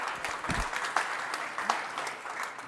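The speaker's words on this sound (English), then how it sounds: "Give a big applause." Crowd applause at a conference talk, a steady wash of many hands clapping with a few sharper claps standing out, fairly close and continuous.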